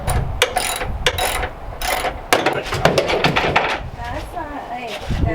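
A ratchet wrench clicks in short bursts as hood bolts are unbolted from a Honda Civic EK in a garage, loud and close, with people talking throughout.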